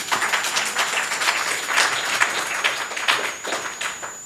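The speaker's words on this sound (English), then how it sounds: "let's hold the applause" Audience applause fills a room at a school trustee candidates forum, a steady wash of many hands clapping at moderate loudness for several seconds, with a faint steady high whine running through it.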